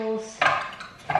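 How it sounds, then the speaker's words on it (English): Frying pans and wooden and plastic utensils are handled close by, with a couple of short clattering knocks of cookware and a brief tonal ring before them. "2 frying pans, some wooden utensils and some plastic utensils"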